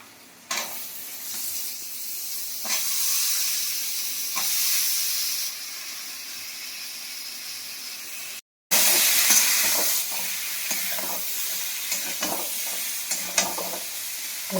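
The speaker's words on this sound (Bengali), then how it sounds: "এটা ভালো করে কষে নিই ঝিঙেটা।" Ridge gourd fries in spice masala in a pan, a steady hissing sizzle punctuated by repeated stirring scrapes, briefly cut off and then resuming louder, with no talking.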